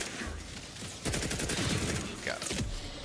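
Sniper rifle fire in The Outer Worlds 2, with a sharp report near the one-second mark followed by a rapid, crackling burst of gunfire and a second loud crack around two and a half seconds.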